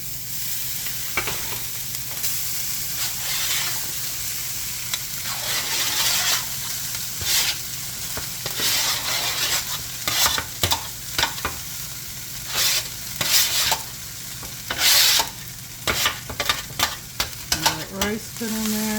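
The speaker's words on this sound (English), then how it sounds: "we're going to use those nice drippings in the bottom of this pan to brown up that rice" Rice browning in pork drippings in a pan: a continuous loud sizzle with repeated scraping strokes of a spatula, growing busier and more clattery toward the end.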